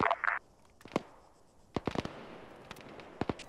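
Arma 3 gunfire sounds in scattered sharp cracks and pops at middling distance, some single and some in quick clusters, with a short burst of louder noise at the start.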